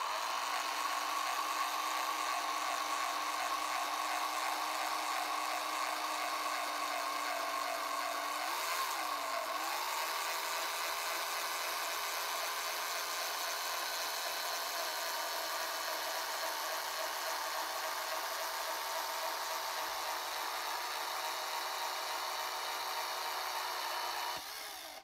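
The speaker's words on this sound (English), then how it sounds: "then we turn on the drill and pull it away from that wood." Electric drill running steadily to tension and straighten a bent wire pulled away from a piece of wood: a constant whining motor drone lasting the whole stretch, with a brief pitch wobble partway through and no talking.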